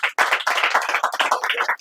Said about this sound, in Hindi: अब तो ताली बजाओ।